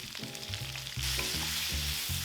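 Vegetables stir-frying in a hot pan for gochu japchae with chili oil, a steady sizzle that jumps louder partway through as ingredients hit the pan, with background music playing.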